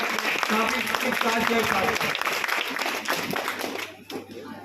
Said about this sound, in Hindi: एक बार जोरदार ताली के साथ स्वागत है